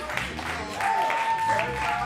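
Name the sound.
audience applause after open mic song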